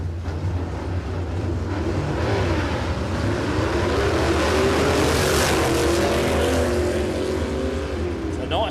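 A radial-tire drag racing car launching at a Warwick dragfest qualifying round, a loud engine roar that climbs in pitch as it pulls away down the track, with commentators talking over it.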